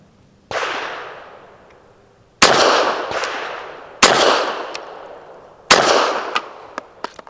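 Four sharp, loud pistol shots from a SAR9 SC Gen 3 subcompact firing Ammo Inc. Stolth 165 grain rounds, spaced unevenly a second or two apart outdoors, each with a long echoing tail and some faint clinks.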